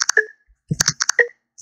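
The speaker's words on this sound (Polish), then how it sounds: "To jest właśnie dźwięk oznaczający przewijanie." A few short electronic tones and soft clicks in quick bursts, the TalkBack screen reader's scrolling sound cue, with pauses between the groups.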